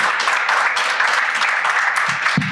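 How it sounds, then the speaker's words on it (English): A company showcase audience gives hearty applause to welcome a panel of global oncology experts, with a thick, continuous round of clapping, loud and close, that holds steady before a brief thump near the end. "please welcome all of our global experts with a big applause"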